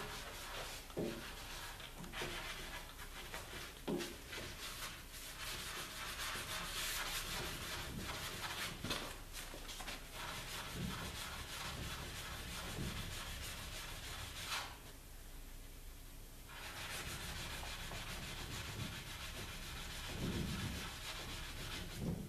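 Hand sanding when rubbing out a wood finish, a soft rhythmic scratchy rubbing with repeated back-and-forth strokes, close but faint, pausing briefly midway before resuming.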